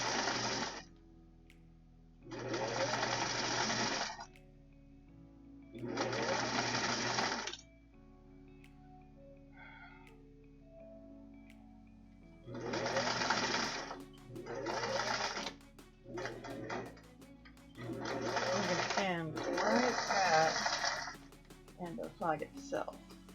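A sewing machine stitches a yard banner or flag in several bursts of fast, steady whirring separated by pauses, close and fairly loud. A person talks quietly during the gaps.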